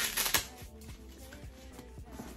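Zippers on a Gymshark gym bag are pulled open, giving a close, steady ratcheting rasp of repeated small clicks that run on for a couple of seconds after a louder rustle at the start.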